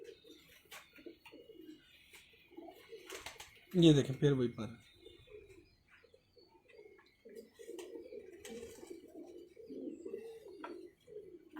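Pigeons coo in a loud burst near the middle, with softer cooing throughout, while someone talks over them.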